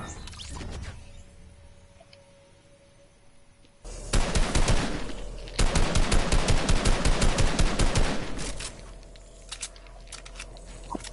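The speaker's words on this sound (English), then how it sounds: "they're shooting me" Rapid automatic gunfire in a video game, long bursts of closely spaced shots that swell loud in the middle, with a few separate shots before and after and no talking.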